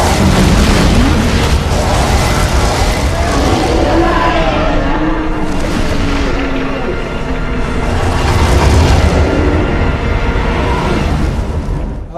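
Loud, continuous rumbling explosions like fireworks from the Ultima 1 video game, heavy booming bursts overlapping with no pauses and rising and falling in intensity.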